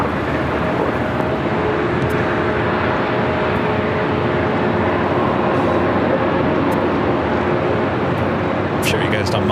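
Boeing 767 jet engines idling on the ground at Los Angeles International Airport, a steady broadband roar with a faint tonal whine, constant and fairly loud throughout, with no pauses.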